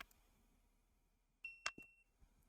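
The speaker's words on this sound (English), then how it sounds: "I'm going to turn it back on again by doing the same thing. You'll hear a small beep." A Ulanzi smart clock gives a single short, high electronic beep as it powers back on, heard alone in a quiet room, with a few faint clicks before and after.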